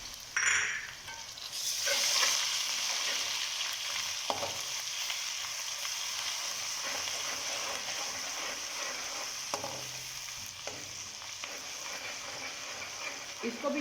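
Crushed ginger and garlic sizzle in hot oil with golden-fried onions, a steady crackling hiss with occasional stirring scrapes and clicks of a spoon against the pan, fairly quiet throughout.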